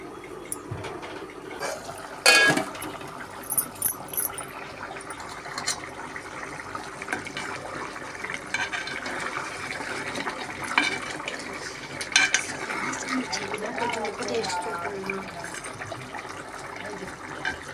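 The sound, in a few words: water being poured into a pot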